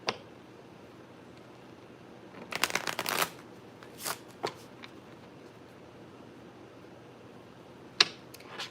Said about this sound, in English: I'm going to shuffle these cards really quick